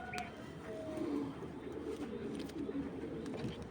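Racing pigeons coo softly in a loft, low throaty calls repeating in slow pulses against faint background noise.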